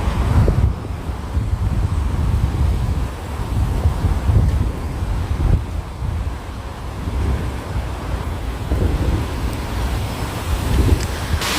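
Water flows beside an underground walkway in London at night, a steady, close rushing wash that holds at an even level throughout with no voices.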